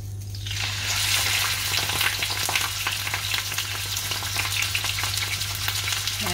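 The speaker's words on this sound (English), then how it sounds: "the oil is ready, so you have to be very careful because it's gonna splash" A rack of lamb sears in hot oil in a pan, giving a loud, steady crackling sizzle that starts abruptly and spatters continuously up close.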